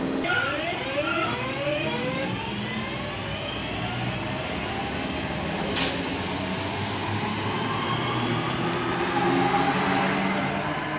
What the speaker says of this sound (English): Departing out here is 323 220 on the slightly delayed 1412 service to Redditch, originating from Lichfield Trent Valley.